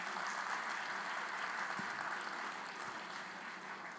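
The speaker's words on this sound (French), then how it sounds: "Vous pouvez l'applaudir" An audience claps for the mayor of a small rural commune of 125 inhabitants, a steady, fairly faint spread of applause from a crowd in a large venue, tapering slightly toward the end.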